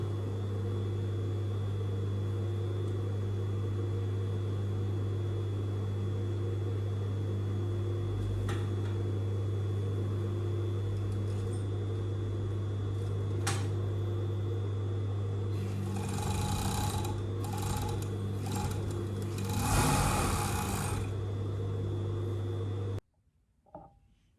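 A sewing machine stitches a pocket bag to a T-shirt dress below the notched pocket mark, right sides together, giving a steady, even motor hum that runs without a break and then cuts off abruptly near the end.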